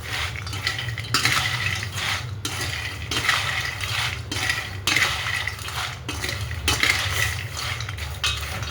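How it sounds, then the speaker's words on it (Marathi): Fasting-style nylon chivda being tossed with salt and powdered sugar, a steady scraping, rustling stir with regular clinking strokes of a spoon against the pan, close and continuous with no talk. "आता चिवड्याचा एक जीव करून घेऊया."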